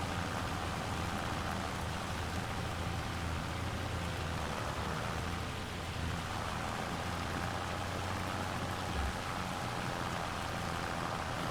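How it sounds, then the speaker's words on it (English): Heavy rain in the video game Farming Simulator 25, a steady, dense hiss of downpour that continues without a break, with a faint low vehicle rumble underneath. "it's just serious rain that we get out in real life as well"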